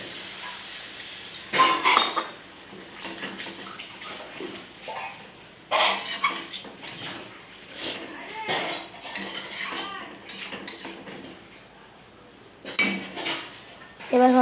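A spoon stirs food in a cooking pot. Metal scrapes and clanks come in uneven bursts with quieter gaps between them.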